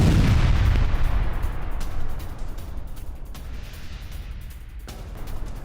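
A loud, booming blast as a tank's onboard shells explode rolls into a fading rumble, followed by a few sharp cracks and pops spaced apart.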